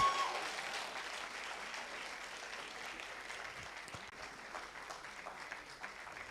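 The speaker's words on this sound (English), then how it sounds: "Round of applause as she makes her way to the stage." A TEDx audience at Nile University of Nigeria applauds as a speaker walks to the stage, a broad, even wash of many hands clapping at moderate distance that holds steady and thins slightly toward the end.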